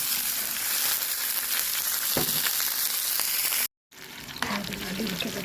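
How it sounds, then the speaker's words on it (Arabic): Food fries and sizzles steadily in a pan over the flame, a dense continuous crackle that drops out for a moment and then returns, with small clinks and stirring noises. "نحمرهم ايه على النار كده لغاية ما يبقوا بني"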